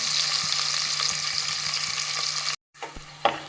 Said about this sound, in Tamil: வெங்காயம் வந்து நல்லா வதங்கட்டும்